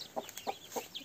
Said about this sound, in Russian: Курица беспокоится